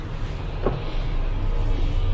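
Electric power window on a Fiat Punto with about 280,000 km winding up inside the car, a steady motor whir lasting a couple of seconds, close and fairly loud, with no talk.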